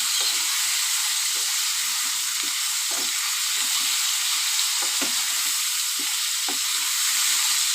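Ridge gourd and potato with turmeric fry lightly in oil in a pan, a steady broad sizzle running throughout with soft scraping stirs every second or so, close and fairly loud.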